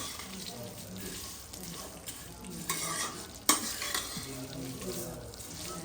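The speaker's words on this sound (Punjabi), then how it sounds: "ਆਪਾਂ ਘਿਓ ਦੇ ਵਿੱਚ ਸੇਵੀਆਂ ਭੁੰਨ ਕੇ" Vermicelli roasting in ghee in a pan makes a continuous low sizzle under scraping stirs, with a sharp clank midway and faint voices in the background.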